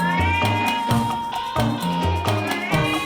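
Cats meow repeatedly, about seven distinct mews in an uneven rhythm, loud and close, alone without talk.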